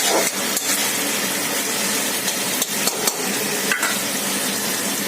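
Mixed vegetables fried with hilsa fish head for a Bengali ghonto, stirred in a pan: a constant loud sizzle broken by sharp spoon knocks and scrapes against the metal at irregular moments.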